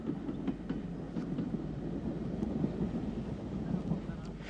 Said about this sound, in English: U-Class 440 No. 204 Antrim, built by Bear Peacock in 1948, arrives at Fintna Junction with the train from Omagh.